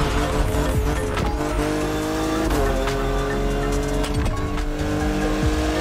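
BMW Z4 M40i roadster driving in The Crew Motorfest, a steady engine drone with tire squeal and brief skids, loud and continuous throughout.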